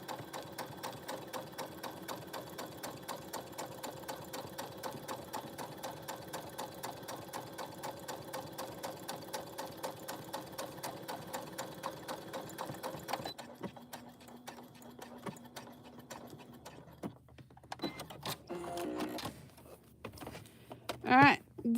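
A sewing machine runs in a long rapid steady stitching burst while sewing a pocket onto a bag, then stops, followed by quieter handling noises and a few louder knocks at the end.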